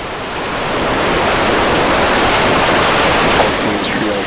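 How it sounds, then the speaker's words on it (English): SpaceX Starship SN10 rocket engines at liftoff, a loud, dense broadband roar that swells within the first second and then holds steady and rumbling. "We have liftoff."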